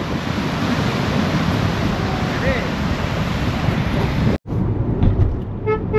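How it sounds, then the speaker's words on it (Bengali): Sea waves at Yarada beach, a steady wash of surf mixed with wind buffeting the microphone, continuous and fairly loud, briefly cut off near the end before resuming. "আর পুরো নীল সমুদ্র।"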